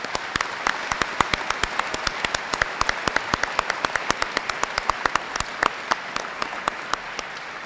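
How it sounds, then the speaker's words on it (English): A graduation ceremony audience applauds the graduates, with many sharp, distinct claps in an irregular, sparse-sounding patter that carries steadily throughout at moderate volume. "We'd like to congratulate all of you by applauding now."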